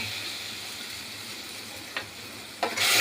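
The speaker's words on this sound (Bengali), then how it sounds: "দিয়ে এইবার ওই যে কালো জিরে বাটা এটা দিয়ে দিলাম" Black cumin paste goes into hot ghee, with a soft steady sizzle, a couple of sharp splatter bursts, and a louder frying hiss at the end.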